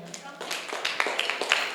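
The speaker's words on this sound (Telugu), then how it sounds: "ఇప్పుడు ఇక్కడ యూత్ అందరూ చప్పట్లు కొట్టండి ఇటు సైడ్ వాళ్ళకి" A youth audience at a Baptist church Christmas celebration claps together, a quick run of scattered hand claps at moderate distance, blending with voices in the hall.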